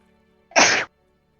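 One sharp, close sneeze bursts out in a quiet room during a tabletop role-playing game session, lasting under half a second and heard alone.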